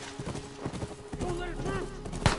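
Horse hooves clip-clop during a tense scene in The Last of Us Remastered, steady rhythmic thuds under loud shouting voices and game noise, followed by a sharp bang at the end.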